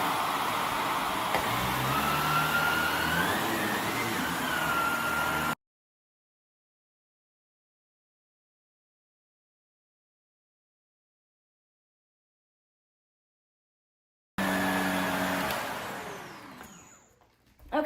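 A Shark Navigator vacuum cleaner runs on a carpet rug with a loud, steady motor roar and a thin whine. The roar cuts out completely, resumes, and then winds down near the end.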